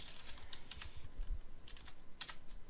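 Typing on a computer keyboard while working in a git tutorial, with bursts of quick key clicks and short pauses between them, heard close and fairly quiet, with no voice over it.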